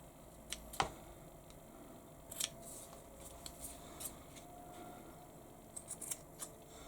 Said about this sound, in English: I'm just going to snip the end threads to tidy them up.